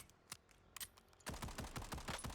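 Pistol fire in the Warzone battle royale game: sparse single shots at first, then a dense, loud burst of rapid gunfire with sharp cracks and clatter, no talking.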